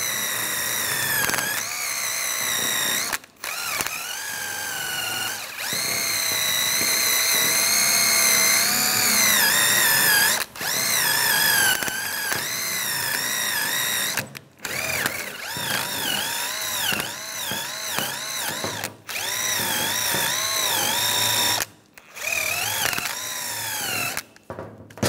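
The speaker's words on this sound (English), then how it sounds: "Use a wire brush and just clean up some of the corrosion." Wire brush scrubbing corrosion off the front brake caliper bracket of a 2007-2013 Mini Cooper, heard as loud, continuous harsh scraping broken by a few short pauses, close up with no talk.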